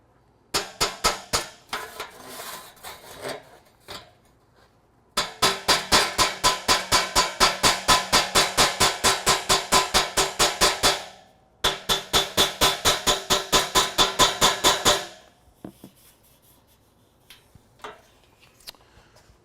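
Rapid, evenly spaced metallic taps from a small trim hammer on an aluminum car grille ring out in several long bursts, separated by brief pauses.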